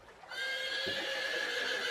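A horse whinnies loudly as a sound effect in an English-learning audio story about a soldier crossing a wide, deep stream on horseback: one sustained, high neigh that starts sharply and carries on to the end, with no speech.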